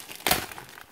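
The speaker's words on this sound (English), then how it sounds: "So let's get the plastic out." Plastic packaging crinkles as it is pulled away during a craft-supply unboxing, a short close rustle with one sharper crackling burst and no talking.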